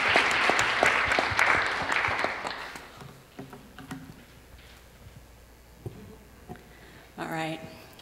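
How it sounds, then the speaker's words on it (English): An audience applauds an artist being introduced at a talk: a loud burst of clapping for about three seconds fades into scattered claps, with faint murmuring and a brief voice near the end. "Can we give her a round of applause?"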